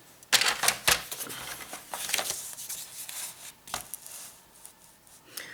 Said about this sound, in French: Alors, on va faire nos plis.